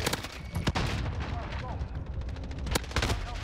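Rapid automatic M4A1 rifle fire in Call of Duty: Modern Warfare, sharp repeated shots over busy battle noise, with someone talking over the gunfire.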